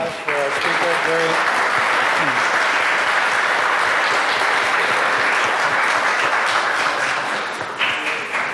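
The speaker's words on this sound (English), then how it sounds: "So let's have a big round of applause for our speaker." An audience at a municipal meeting on marijuana legalization breaks into strong, continuous clapping for a speaker, starting just after a brief voice and holding loud and dense to the end.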